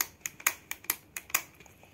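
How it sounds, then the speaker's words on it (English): A pen is clicked about eight times in quick, slightly uneven succession, each click crisp and close, with nothing else heard. "clicking sound of pen"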